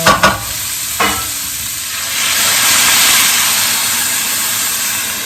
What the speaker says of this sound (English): I'm gonna let that cook in its own steam